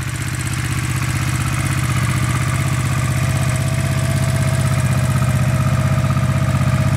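A 1986 Honda Shadow VT500 motorcycle with a slight throttle issue idles steadily nearby, its engine giving a loud, even, rapid thumping pulse throughout.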